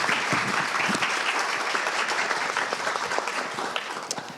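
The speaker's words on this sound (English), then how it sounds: "I think they all deserve a round of applause." An audience at a feminist congress panel applauds the organizers, a dense, steady wash of many hands clapping that holds evenly throughout, close and full, with no talk over it.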